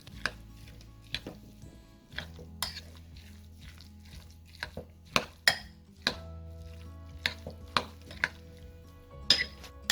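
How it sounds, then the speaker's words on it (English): A spoon clinks and taps against a bowl while guacamole is mixed, the sharp knocks coming irregularly over a soft, mushy churning; close up, with no voices. "Now all we have to do is just mix our guacamole."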